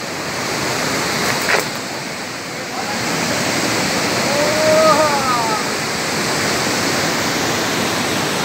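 The Moquém waterfall at Bom Repouso, Minas Gerais, Brazil, gives a steady, broad roar of falling water, strong and continuous throughout, with a faint brief voice-like sound rising midway.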